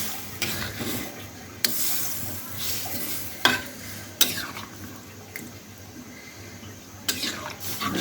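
Spoon stirring chicken roast made with farm chicken in a pan after milk has been poured in, a soft steady sizzle underneath with several sharp scraping clatters spread through it, close by and with no talking.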